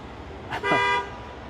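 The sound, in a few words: cars stopping and honking on the street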